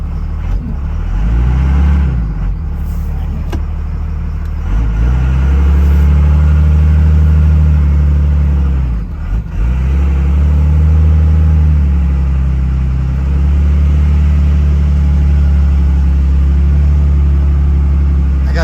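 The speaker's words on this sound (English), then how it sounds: "And this truck's really nice to drive." A Cummins-powered truck pulling a dump trailer drives steadily, its engine a loud continuous low drone with slight rises and dips in revs, heard from inside the cab.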